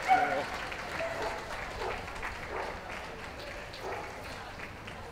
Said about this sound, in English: Please put your hands together, ladies and gentlemen,